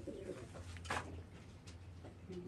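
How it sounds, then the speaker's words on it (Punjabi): A pigeon coos softly nearby, with low repeated coo phrases over a faint background. "ਕਬੂਤਰ?"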